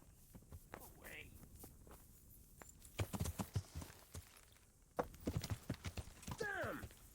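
Horse hooves clip-clopping in Kingdom Come: Deliverance, a medieval setting, with bursts of walking hoofbeats around talking voices and a horse-like whinny near the end.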